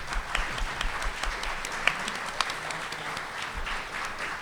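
A conference audience applauds in a sustained, moderately loud round of clapping, with a few sharper individual claps standing out from the steady patter.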